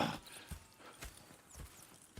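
Horses in Red Dead Redemption 2 clip-clop at a steady walking rhythm, with a few distinct hoof strikes close by and a faint whinny near the start.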